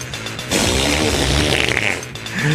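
A loud, long, blubbery cow flatulence sound effect, rough and sputtering, running continuously for a couple of seconds.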